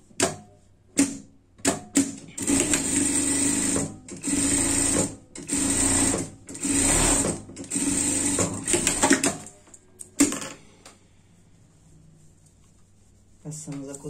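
A sewing machine stitches a hood lining for a frog-style pet costume in several loud, close, rapid whirring bursts separated by pauses, while someone talks between and over the runs.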